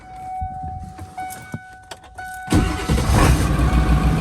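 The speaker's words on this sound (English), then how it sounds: "Already ran my glow plugs, so let's just crank this thing over" A straight-piped diesel truck engine cranks briefly, then catches and starts, its loud rumbling idle building up close by after a few quiet clicks and starter sounds.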